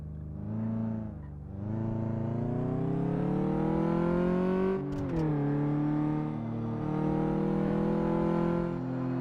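Simulated car engine on a test drive in Car Mechanic Simulator 2015, droning steadily and rising and dipping in pitch as it revs up through the gears, with one brief lift of the throttle midway and no voices.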